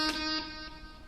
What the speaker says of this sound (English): An eighth note delay sounds like this.